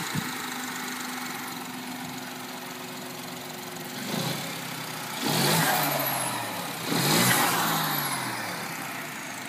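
Revving from a BMW three-cylinder engine fitted to a 1 Series prototype, steady idle hum building into two strong surging revs that rise and fall, heard close with no talking.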